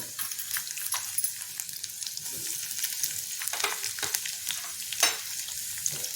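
Capsicum and grated carrot fry in hot oil in a pan for vegetable rava idli, giving a steady close sizzle with occasional stirring scrapes and no voices.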